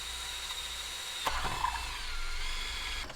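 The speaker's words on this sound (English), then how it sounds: "So we'll get set up to drill those right now." Drilling holes for gauge mounting in an OBS Ford F250 with a 7.3 Powerstroke, a power drill whirring steadily and close, with a sharp bite as the bit starts cutting and a brief clunk near the end.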